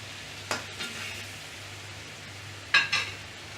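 Onion dropped into mutton frying in reduced coconut milk, a quiet steady sizzle with a few short bursts of stirring and scraping near the start and again toward the end.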